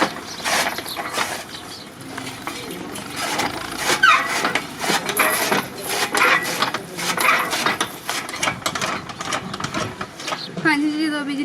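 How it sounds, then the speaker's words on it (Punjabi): A hand-operated fodder chopping machine in a village cuts animal fodder with a steady rhythmic clanking and whirring, close and continuous, with voices talking over it. "ਤੁਸੀਂ ਆ ਜੀ ਹੱਥ ਵਾਲੀ ਮਸ਼ੀਨ ਆ ਪੱਠੇ ਕੁਤਰਨ ਵਾਲੀ।"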